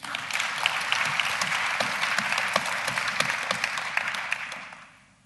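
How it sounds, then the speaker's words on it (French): An audience in a lecture amphitheatre welcomes a girl with dense, lively clapping that stays steady and then tapers off at the end, with no talking. "Applaudissez-la aussi."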